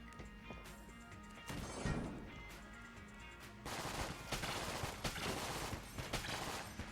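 Rapid gunfire crackles and thumps in the video game Enter the Gungeon, with quieter scattered shots first and then a dense, sustained volley of overlapping bursts.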